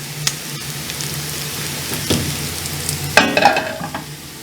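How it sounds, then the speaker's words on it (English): Crispy pan-fried noodles are stir-fried in a pan, a steady close sizzle with scraping and tossing sounds, growing busier and louder toward the end. "stir fry it to make sure that this guy is ready to go"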